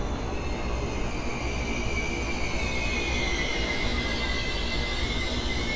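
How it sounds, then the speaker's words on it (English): A loud train rumbles past in the video game OTXO, with heavy wheel noise and high metallic squeals drawn out over a steady roar. "That's an loud train."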